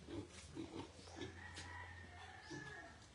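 A pig on a rural farm in Aklan, Philippines, grunts several times in short low snorts, faint and somewhat distant amid outdoor background noise.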